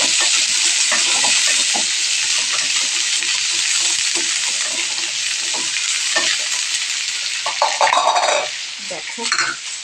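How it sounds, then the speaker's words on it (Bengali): Washed, chopped vegetables frying in just a little oil with no spices, a loud close sizzle running throughout while a utensil stirs and scrapes the pan in repeated strokes. "আর এই তেলের মধ্যে কেটে রাখা ধোয়া সবজিগুলো আমি দিয়ে দেবো"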